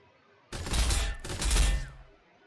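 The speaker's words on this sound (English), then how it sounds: "Throw the stick bomb, even though it's not going to do much to him at all. It's just a free attack. We'll shoot him with the pistols" In the Warhammer 40,000: Sanctus Reach game, a stick bomb and pistol fire from Orks land as two loud, close blasts of crackling gunfire, back to back, after a quiet start.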